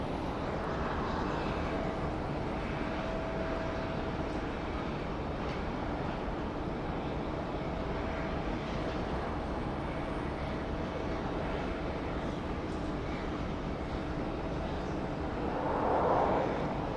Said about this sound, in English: runway 34 left, clear for takeoff